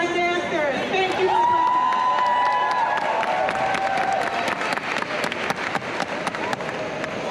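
A crowd at a Black graduate celebration applauds and cheers for the drummers and dancers, with loud sustained clapping, shouts and whoops, plus an amplified voice speaking over the din.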